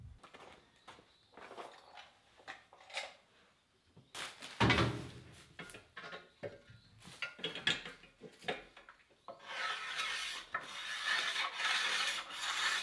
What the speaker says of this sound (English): we're going to have to remove wood to bring the weight back down